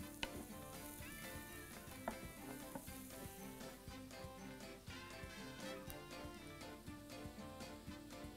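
Butter sizzling and melting with frying onions in a pan for a breaded cutlet sandwich with cream sauce, a steady close crackling fry with occasional stirring clicks, no voices.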